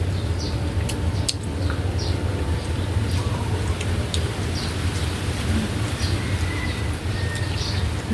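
Steady rain falls in an outdoor setting, a continuous broadband hiss with a few faint bird calls above it and no speech.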